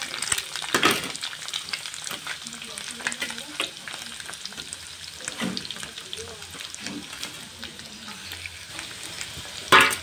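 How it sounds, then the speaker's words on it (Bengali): Chopped onions hit a pan where an egg was just fried and sizzle loudly, with spatula stirring, scraping and occasional metallic clinks over about ten seconds. "কেটে রাখা পেঁয়াজগুলো আমি এখন দিয়ে দিচ্ছি এখানে"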